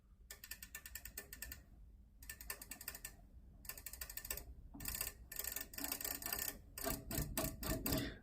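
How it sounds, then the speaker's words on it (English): Rapid bursts of small mechanical clicks from relays switching in the volume control of a tube preamplifier (Convergent Audio Technology SL-1 clone), clustered in quick runs separated by short pauses, close and fairly quiet. "if I'll be changing the volume, you'll hear the relays clicking"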